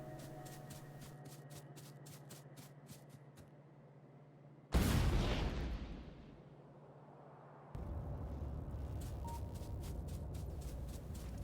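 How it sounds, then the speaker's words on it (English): Grenades detonating among biters in the video game Factorio: a sudden loud explosive blast with a decaying rumble, set between stretches of rapid rhythmic gunfire and a steady low hum. "I start crafting some grenades, which can kill massive amounts of biters in a single blast"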